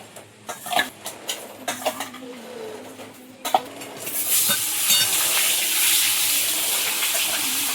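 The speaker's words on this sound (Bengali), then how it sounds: "মাছগুলো লবণ হলুদ মাখিয়ে এখন ভাজবো" Fish coated in salt and turmeric dropping into hot oil, first a few scattered knocks and clatters, then a loud sustained sizzle of frying that continues to the end.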